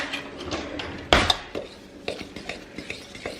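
A butter and pecan mixture gets mixed in a bowl: scraping and clinking of a utensil against the dish, one sharp knock early, then a run of lighter irregular taps and scrapes, close and fairly quiet.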